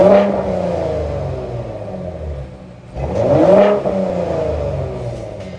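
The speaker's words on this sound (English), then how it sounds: "a rather fancy new exhaust, which I will say doesn't sound too shabby given that V6" A 2021 Ford F-150 Raptor V6 engine revs up through a throaty new exhaust, rising and falling in pitch with a second louder surge midway, a steady deep rumble underneath.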